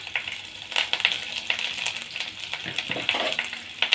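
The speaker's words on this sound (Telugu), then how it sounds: "ఆయిల్ హీట్ అయింది, ఇప్పుడు ఆనియన్ వేసుకున్నాము. కరివేపాకు, పచ్చిమిర్చి" Onion, curry leaves and green chilies frying in hot oil for a curry, a steady close crackling sizzle with scattered sharper pops throughout, no talk.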